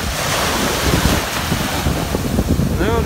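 Atlantic Ocean surf at Sunny Isles Beach, Miami, rumbling and washing continuously, with gusty wind buffeting the microphone throughout.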